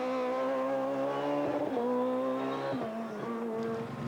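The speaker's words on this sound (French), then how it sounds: "la Peugeot 306 Maxi du champion de Suisse," A Peugeot 306 Maxi rally car drives hard on a rally stage, its loud, close engine note climbing steadily and dropping with quick gear changes, with no voices over it.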